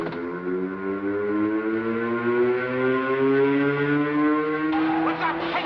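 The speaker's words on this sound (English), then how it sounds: "Joe, what's the sirens for" Prison sirens wail continuously in a steady, loud, rising tone with a low droning layer beneath, sounding through a cell block riot scene in a 1954 film, with a faint voice near the end.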